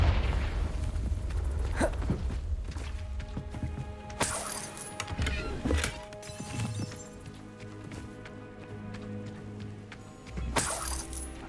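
Fire-blast spells exploding in the game Hogwarts Legacy: several sharp crashing booms burst at intervals over a steady bed of game ambience and music.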